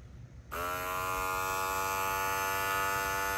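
A Wahl Vanish electric shaver switches on after a moment of quiet, then runs with a steady, loud buzzing hum that holds constant to the end.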